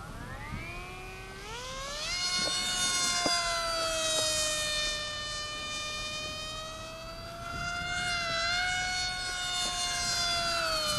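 A high, whining jet engine sweeping up and down in pitch as a HobbyKing RadJet radio-controlled model plane flies around, loud and continuous with no voices.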